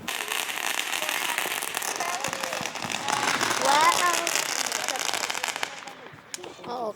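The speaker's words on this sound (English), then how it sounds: "I guess that's the end of the firework." Fireworks and firecrackers crackle and pop in dense, continuous bursts outdoors at night, moderately loud, with people talking and exclaiming over the display.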